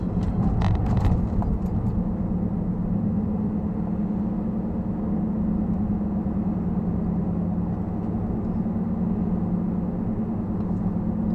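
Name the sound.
car driving on the road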